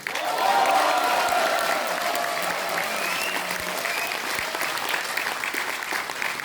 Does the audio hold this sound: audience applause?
yes